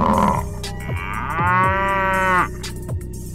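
An African buffalo bellows at night during a fight with lions, one long, loud, drawn-out moan close by, with a few shorter grunts before and after and no talk.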